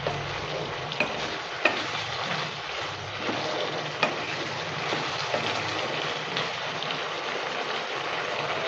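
Squash ghonta with garam masala being stirred in a pan, a steady frying sizzle with scraping spoon clicks and knocks scattered throughout, close and continuous with no voices.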